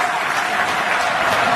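A rugby league crowd applauds a Manly player leaving the field, a dense, continuous wash of clapping from a large stadium audience with no break.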